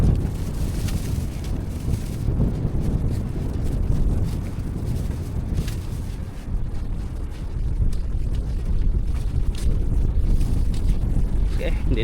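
A boat sits out on open water, with constant wind buffeting and rumbling against the microphone and the low wash of water around it. A voice speaks intermittently under the noise.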